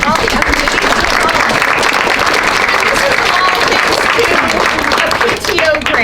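Loud, sustained audience applause at a crankie performance, a dense continuous roar of many hands clapping with faint crowd murmur underneath, filling the whole stretch before tapering slightly near the end.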